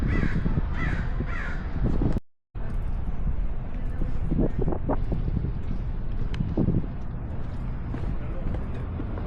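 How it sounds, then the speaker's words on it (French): Parrots in San Francisco squawk in a quick run of harsh calls, then give scattered cries later, over gusty wind noise. People talk nearby. "C'est les perroquets qu'on a vus avant."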